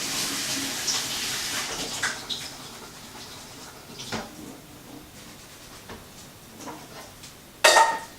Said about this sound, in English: So I'm just going to rinse the rice under warm water